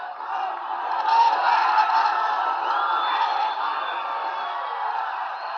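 A large crowd roars, whoops and yells as it storms Nepal's undefended parliament, a dense, continuous wall of shouting and cheering held at steady loudness throughout.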